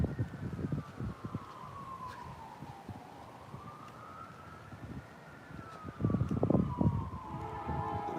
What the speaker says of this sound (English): I think there's 2 sirens going off now.